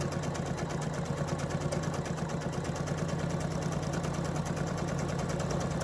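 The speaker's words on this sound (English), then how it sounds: "I'm sewing on the inside or on the valley, right next to the valley" A sewing machine stitches quilt fabric next to the valley of a seam, running in a steady, continuous mechanical hum with a fast repetitive needle rhythm, close by and moderately loud, with no talking.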